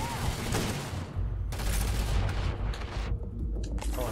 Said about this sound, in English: Say that to my hail of gunfire?